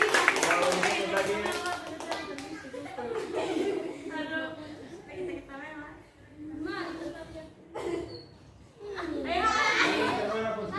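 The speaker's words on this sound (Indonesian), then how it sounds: "Ya, tepuk tangan buat dia dulu." A class of schoolchildren claps for a pupil during a lesson. Bursts of hand clapping and taps mix with children's chatter and light laughter, rising and falling in waves, with talking heard throughout.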